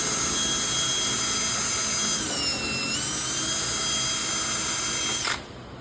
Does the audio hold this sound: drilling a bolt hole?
yes